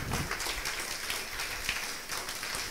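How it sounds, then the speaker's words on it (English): Church congregation clapping for the Lord during a Sunday anniversary celebration service, a dense, steady wash of many hands that carries on for the whole stretch at moderate volume. "Give a clap to the Lord."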